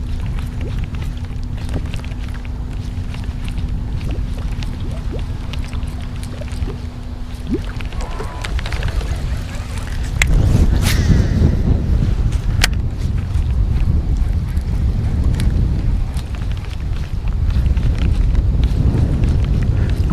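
Steady wind blows across a lake during a bass-fishing outing, a constant low rushing roar with gusting microphone buffeting that strengthens partway through; a faint engine hum runs early on, with no talk.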